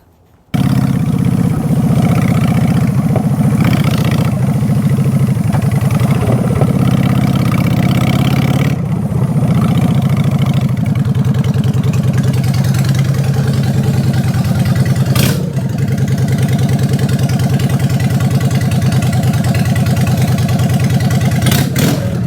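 A motorcycle engine runs steadily throughout, a loud close idle-to-ride rumble with slight revving swells as the bike rides in, no talking.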